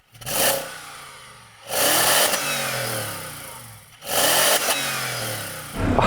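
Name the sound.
BMW car engine revving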